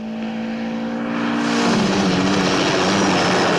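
A helicopter swells overhead in a scene from the 1977 Bond film The Spy Who Loved Me. A steady droning whir builds in loudness and then holds, with no talk over it.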